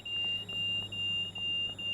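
A train cab warning alarm in a railway simulator game beeps steadily at a high pitch, pulsing evenly about every half second, loud and alone over a low engine hum.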